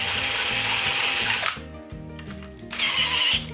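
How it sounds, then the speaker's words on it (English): A 1/2-inch drill bores out the holes of a five-stud clutch hub in loud, close bursts, with a grinding whine that stops briefly, then leaves clunky gear-like knocking and starts again. "So I'm just going to go along with my 1/2-inch drill"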